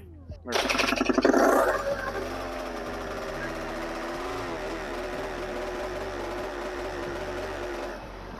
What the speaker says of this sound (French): quand on entend la moto s'étouffer comme ça